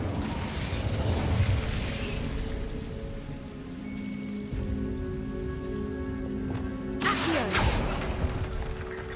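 A fire spell cast in a Harry Potter video game: a sustained crackling, rain-like rush of flame that holds steady, then flares into a sharp, loud burst near the end, with a tonal magical hum running underneath.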